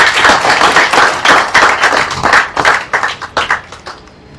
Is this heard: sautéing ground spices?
no